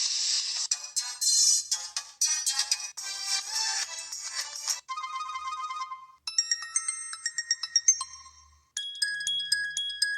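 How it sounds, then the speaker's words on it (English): Several short default Android ringtone melodies play one after another on a UMX Max Bravo U670C phone, bright chiming and tinkling tones in quick rhythmic patterns, switching abruptly between tunes. "These are just the same default old Android ringtones."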